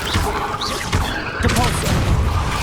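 Rapid spell casts in the wizarding game Hogwarts Legacy, dense booming blasts and crashes one after another with a voice shouting incantation names over them.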